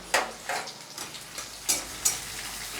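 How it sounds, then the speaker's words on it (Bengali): Chopped onions frying in a pan with cinnamon and cloves, a soft steady sizzle broken by several brief scraping stirs of a spatula, close and moderately quiet, no talking. "আর পেঁয়াজগুলোকে আমি হালকা লাল লাল করে ভেজে নেব"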